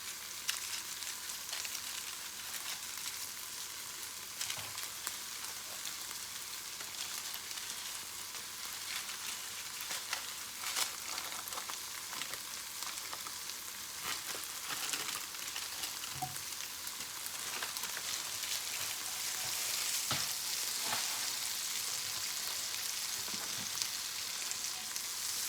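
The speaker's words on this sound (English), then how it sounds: "So now I'm gonna put the butter in the pan." Butter melting in a frying pan gives a steady, quiet sizzle with scattered crackles and pops that continue without pause.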